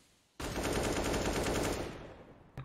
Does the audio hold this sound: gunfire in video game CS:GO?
yes